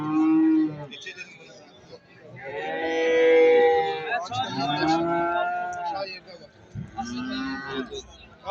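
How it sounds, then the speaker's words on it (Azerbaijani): Calves and cattle low at a livestock market, loud nearby moos coming one after another in long drawn calls, overlapping at times, with a little background talk. "Bax belə dişi danaçalarımız var, qəşəng damazlıq üçün."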